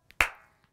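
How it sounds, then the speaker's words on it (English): A single sharp hand clap rings out crisply in a children's song, close and bright with a short decaying tail, surrounded by near silence. "One clap."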